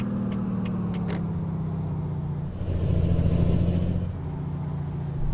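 Cummins ISX 600 diesel truck engine sound mod in American Truck Simulator, a steady low idle rumble with a few short hisses, then the engine note swells louder for a couple of seconds before settling back.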